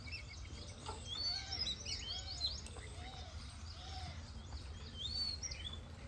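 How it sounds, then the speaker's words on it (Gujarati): Parrot calling outdoors on a Gujarati farm, a run of repeated curved chirping calls at a moderate distance, steady and spaced over several seconds with no talking. "આ તો પોપટભાઈ આયા પોપટભાઈ"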